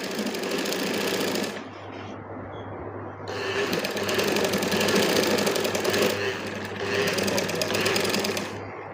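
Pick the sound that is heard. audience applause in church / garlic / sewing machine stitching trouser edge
sewing machine stitching trouser edge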